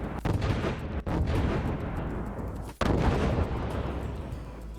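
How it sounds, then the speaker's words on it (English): Explosion samples from a sound effect pack: loud, close, booming blasts with rumbling tails, each new burst cutting in sharply over the last, about three onsets in a row with no talking. "just start off with explosion"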